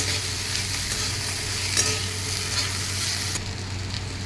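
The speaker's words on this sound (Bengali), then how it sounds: "এবার টমেটোটাকে একটু কুকুয়ারি আমি 2 থেকে 3 মিনিট একটু ভেজে নেব" Tomatoes sizzle and crackle steadily in a hot pan, a continuous hiss with a brief scrape partway through and no voices.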